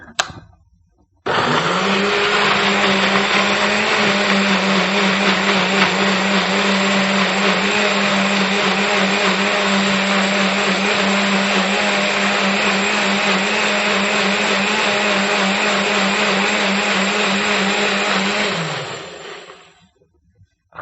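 A blender roars steadily at high speed for around seventeen seconds, loud and unbroken, then winds down to a stop.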